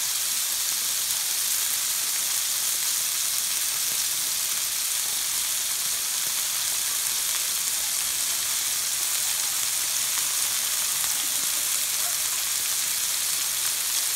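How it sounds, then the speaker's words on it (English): Food sizzles steadily on a skillet, a dense, continuous frying hiss that stays even throughout with no voices over it. "Grab another one, put it on the skillet."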